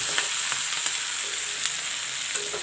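Broccoli, carrot and capsicum stir-frying in a pan give a steady, close sizzle, broken by a few light clicks of stirring.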